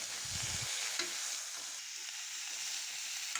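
Pork with fatty pieces fries over low to medium flame in a pan. A steady, even sizzle carries a couple of soft stirring knocks, with no voice.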